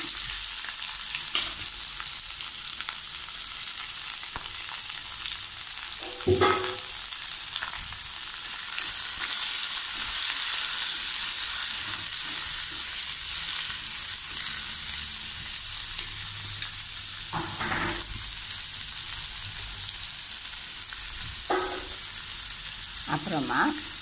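Continuous hiss of mustard seeds, curry leaves and onion frying in hot oil in a pan, close and steady, with occasional clinks and scrapes of a utensil against the pan.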